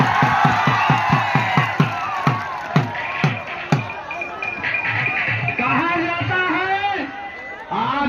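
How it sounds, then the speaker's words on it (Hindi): Crowd at a village dangal wrestling match clapping and cheering; a run of quick rhythmic claps opens, then gives way to whoops, shouts and chatter from the spectators as a voice talks over the noise. "एक बार जोरदार तालियों से स्वागत किया जाए"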